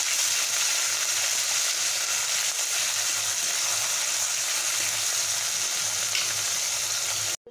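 Green chili and ginger paste fries in a pan over a low gas flame, giving a steady, loud, close sizzle that holds evenly throughout with no talking.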